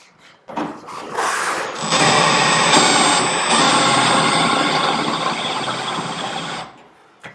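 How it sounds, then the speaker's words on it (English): A drill fitted with a countersink bit bores into a steel door frame, a loud sustained whine and grinding roar that starts with a short burst, holds steady for several seconds, then stops. "use a countersink, taper that hole so the screw sits nice and flat."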